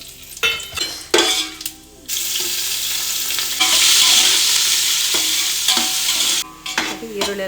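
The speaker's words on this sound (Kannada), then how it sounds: "ಸೊ ಅಷ್ಟು ಮಸಾಲೆ ಫ್ರೈ ಮಾಡ್ಕೊಳ್ಳೋದಕ್ಕೆ ಎಣ್ಣೆ ಹಾಕೊಳ್ತಾ ಇದ್ದೀನಿ ಕಸ್ತೂರಿ ಮೆಂತ್ಯ ಸೋಂಪನ್ನ ಕೊಡ್ತಾ ಇದ್ದೀನಿ" Masala frying in oil with kasuri methi and fennel, a loud continuous sizzle that swells when the ingredients go in, with metal spoon clinks and scrapes against the pan at the start and end; no voices.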